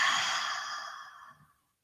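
A long, slow exhale through the mouth during a yoga breathing exercise, a soft breathy whoosh heard close up that fades out gradually over about a second and a half, with no talking.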